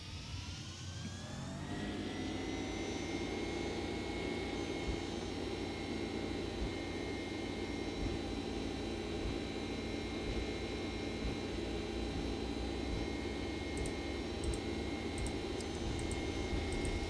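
Boeing 767 jet engines in the X-Plane flight simulator spool up for takeoff, a steady loud roar that rises over the first two seconds and then holds at full thrust, with a high whine running throughout.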